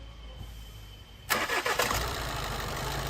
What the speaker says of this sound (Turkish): Bakın motor sallama dediğimiz, tekleme dediğimiz bakın.